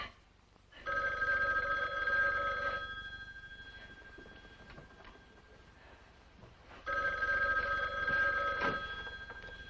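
A telephone bell rings in two loud, steady bursts, the first lasting about two seconds, then a pause of roughly four seconds before a second ring. There are no voices.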